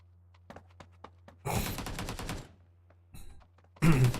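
Several short bursts of AK rifle fire from the mobile shooter PUBG New State come in quick clusters, separated by quiet gaps and faint single clicks, moderately loud in a tournament match.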